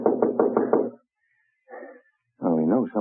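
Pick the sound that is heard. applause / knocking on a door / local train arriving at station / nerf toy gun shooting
knocking on a door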